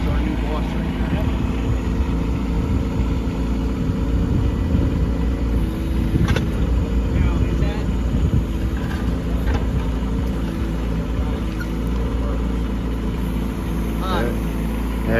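A concrete truck's diesel engine runs at a footer pour on a work site, a steady low idle-like drone with clanks and faint voices in the background.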